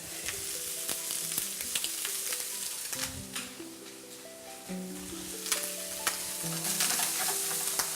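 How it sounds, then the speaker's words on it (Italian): Shredded savoy cabbage hitting a pan of frying smoked pancetta, giving a dense, continuous sizzle with stirring scrapes and soft clicks, close and steady with no talking. "nostra pancetta affumicata. Aggiungiamo il nostro cappuccio"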